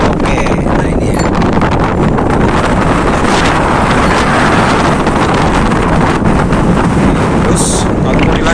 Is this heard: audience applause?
no